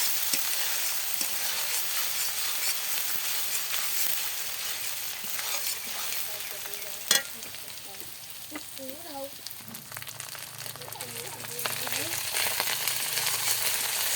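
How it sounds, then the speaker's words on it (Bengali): Ginger, garlic and onion fry in oil on a clay stove in a village kitchen, giving a continuous soft sizzle with steady stirring and one sharp knock midway. "আদা রসুন পেঁয়াজটা দিয়ে দিলাম তেলে। এটা একটু কষিয়ে নেব।"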